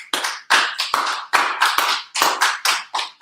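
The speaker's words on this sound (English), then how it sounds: "Clap it up for the brother" A crowd claps hands at an ISUPK gathering in Milwaukee, loud and close, in a run of about a dozen sharp, rhythmic bursts with no talking.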